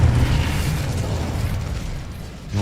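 A fiery Incendio spell cast during a duel in Hogwarts Legacy, giving a loud, sustained whooshing roar with a low rumbling burst that runs continuously for the whole moment, with no talk.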